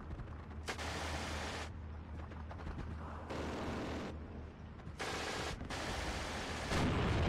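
MG42 machine guns fire in a Steel Division 2 battle in bursts of a few seconds each, with a dense, harsh roar. Each burst cuts in and out against quieter noise between them, with no talking.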